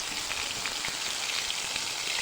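Sardines sizzle loudly in hot frying oil, a dense, steady crackling hiss with scattered sharp pops running throughout, close and unbroken with no voices.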